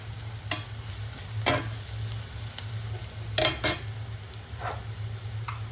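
A spatula stirs turmeric and salt into food frying in a pan, giving a few separate scrapes and clinks over a steady low sizzle and hum, close and moderately loud.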